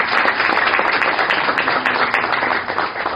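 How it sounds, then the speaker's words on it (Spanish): Loud, dense applause from an audience at a political talk, continuous clapping close by with a few sharper individual claps standing out. "quiero que por favor le den un gran aplauso a Gabriel Domínguez"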